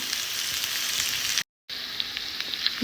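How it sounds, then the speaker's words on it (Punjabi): Oil sizzles and crackles steadily as onion fries in a pan over medium flame, broken by a brief moment of silence before the frying hiss resumes. "ਤੜਕਾ ਆਪਣਾ ਰੈਡੀ ਹੋ ਗਿਆ ਪਿਆਜ਼ ਵਗੈਰਾ ਚੰਗੀ ਤਰ੍ਹਾਂ ਪੱਕ ਗਏ"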